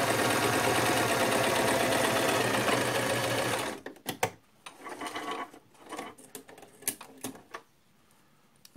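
Sewing machine fitted with a twin needle stitching a double-folded hem, running steadily and close for about four seconds, then stopping, followed by scattered clicks and fabric handling.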